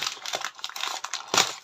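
Crinkling and tearing of paper as a package is pulled open, a quick burst of rustles with a sharper rip near the end.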